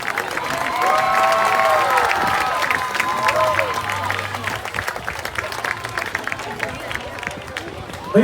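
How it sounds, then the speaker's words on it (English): Stadium crowd applauding and cheering the homecoming court at a high school football game's halftime, a broad sustained wash of clapping and shouts that slowly thins while a voice murmurs over it. "how about one more huge round of applause for our homecoming court, their incredible escorts, and especially to our homecoming king and queen"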